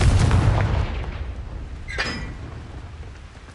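A Confringo fire spell in Hogwarts Legacy blasts with a loud, booming explosion at the start, then a second sharp burst about two seconds later, each trailing off into a rumbling decay.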